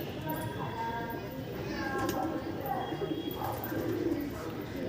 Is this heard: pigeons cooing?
yes